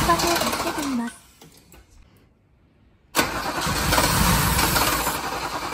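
A carbureted Toyota Crown engine cranks and catches for an instant after a parts-cleaner spray, then dies; a near, loud churn drops to near silence for two seconds before the starter resumes grinding.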